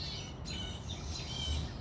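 Birds calling in the trees: faint chirps and tweets scattered over a low outdoor hum, fairly distant, with no talking heard.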